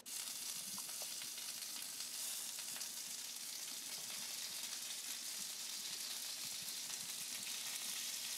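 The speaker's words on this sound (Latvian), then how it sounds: "Un pusgatavs pelmeņus apcepšu eļļā." Partly boiled Siberian pelmeni fry in oil in a pan, giving a steady, quiet, even sizzle with faint crackles and no voices throughout.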